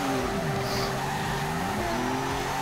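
A Toyota JZX drifting with a sustained loud tire squeal over a steady engine drone, its pitch sliding up and down throughout.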